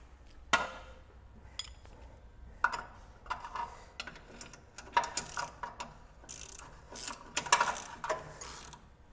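A ratchet tightening bolts during a power steering conversion on a Toyota FJ40: repeated close, crisp clicking strokes in irregular bursts with short pauses between them, no voices.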